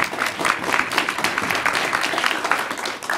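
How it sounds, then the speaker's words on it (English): Audience applause at a senior open debate final, a dense run of close, lively clapping from a room full of people, sustained for the whole span with slight swells and a tailing off at the end. "Round of applause, please."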